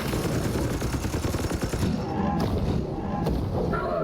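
Gunfire in the Chaos Gate video game: a continuous loud barrage of rapid shots and thuds that eases slightly halfway through.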